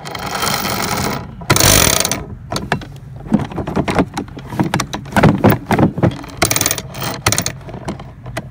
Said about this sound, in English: I wonder if that was clicking before.